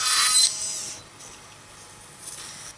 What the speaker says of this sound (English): So suddenly you see my drilling very different.